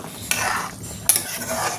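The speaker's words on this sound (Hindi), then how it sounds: "तो अभी इसको मैं एक बार चला लेती हूँ फ़िश को।" A spoon scraping and stirring fish in a kadhai, two quick sweeps of metal against the pan, each starting with a clink, close and fairly loud with a faint sizzle beneath.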